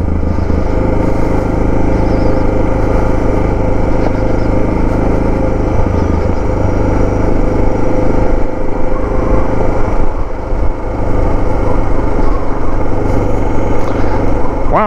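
A Suzuki DR650 motorcycle rides over loose gravel in the Rocky Mountains, its engine droning steadily and fairly loud throughout, with a shift in tone around the middle as the rider works the throttle.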